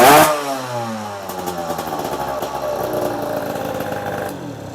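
A 2008 MBK X-Limit enduro moped engine revs hard from a sharp start, then holds a loud, buzzing high-rev drone with a rough, saturating edge before cutting off near the end.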